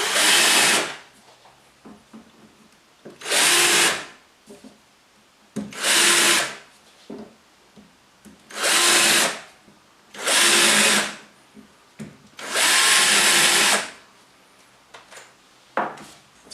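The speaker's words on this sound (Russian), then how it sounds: "беру шарошку и делаю углубление под шляпки самореза" A power drill fitted with a countersink bit cuts recesses for screw heads into the wood of a furniture drawer, in six short loud bursts of whirring separated by quiet pauses while the bit is moved.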